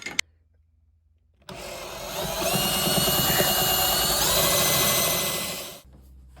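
A power drill bores through a metal flange during a roll bar install on a 2022 Mustang Mach 1, a steady loud whining grind lasting several seconds close up, rising then cutting off after a brief quiet start.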